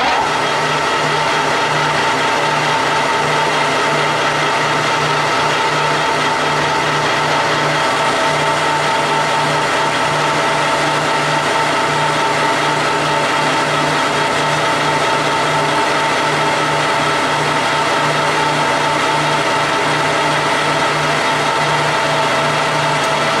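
Clausing Colchester 15X50 lathe running at 840 RPM and taking a very light cut without coolant, giving a steady, loud, continuous machine hum with a constant low drone and no pauses.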